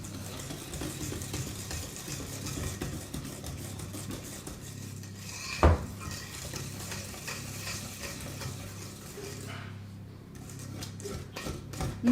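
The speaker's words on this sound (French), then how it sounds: "on mélange bien, on enlève tous les petits grumeaux" Cake batter for a three-layer magic cake, thin like crêpe batter, is stirred in a bowl to break up lumps, giving a steady, continuous scraping and swishing that runs throughout with a brief knock midway.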